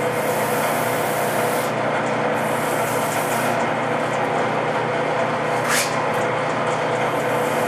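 A wooden baseball hand-sanded with cloth-backed sandpaper, a steady close rasping rub that continues without pause throughout.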